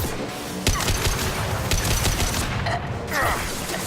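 Rapid bursts of gunfire from a Mass Effect 2 firefight crackle loudly and near, volleys stacking over a dense, busy game soundscape with explosive thumps scattered throughout.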